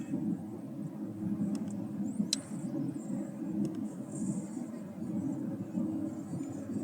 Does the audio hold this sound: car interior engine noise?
yes